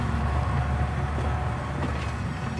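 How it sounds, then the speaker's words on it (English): A train slowly drawing into a station, a steady low rumble and rolling clatter of railroad cars that holds constant and fairly loud throughout, with no talk. "The train drew slowly into the station."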